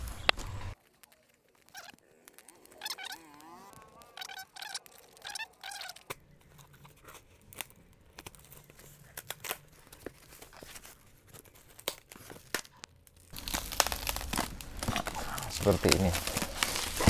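A package is unboxed close by, its plastic wrapping crinkling and tearing in bursts of rustle, with a sharper, louder stretch of tearing near the end and a person talking in between.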